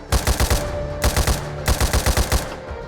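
Pistol fire in a zone 51 survival video game, loud rapid bursts of sharp shots in three clusters with brief pauses between them.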